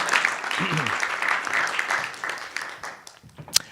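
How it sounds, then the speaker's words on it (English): A conference audience breaks into applause after a presentation, a dense wash of clapping that gradually thins and fades, with a voice briefly heard near the start. "Let's give him a round of applause for an interesting presentation."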